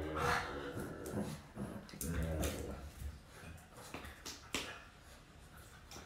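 A puppy snuffles and breathes close by, with a few faint whimpers and soft clicks against a quiet room.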